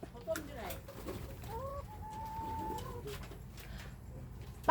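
Chickens cluck and coo softly nearby over quiet outdoor background, with a few brief calls rising and falling.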